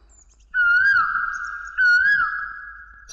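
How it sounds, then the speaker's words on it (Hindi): Two clear, loud tonal bird calls from a film scene, each about a second long, with a sustained whistle and rising and falling inflections, separated by a short pause. They stand out against a quiet background, and no one speaks. "कोयल की आवाज भी सुनाई नहीं दी क्या तुम्हें?"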